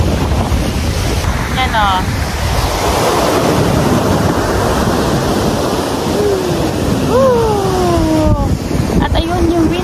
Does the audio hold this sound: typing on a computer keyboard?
no